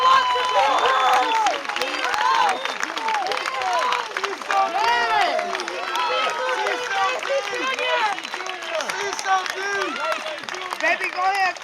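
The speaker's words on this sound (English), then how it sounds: "go ahead, clap for him" A crowd at a Black Lives Matter protest in CHAZ clapping amid many voices cheering, calling and shouting, a constant busy mix of claps and voices throughout.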